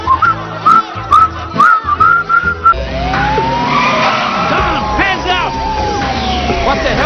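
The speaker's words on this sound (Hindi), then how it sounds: "सीटी बजाओ" Whistling in a Navratna oil advertisement: a run of short, high whistle notes in a rhythmic tune, then a long rising whistle that fades into engine and tire-squeal noise.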